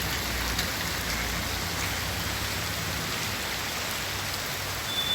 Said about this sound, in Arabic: مطر خير يا رب ان شاء الله، بداية خير